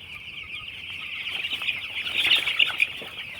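Eleven-day-old chicks in a spacious pen chirp constantly, a thick chorus of high peeping that grows a little louder and busier partway through.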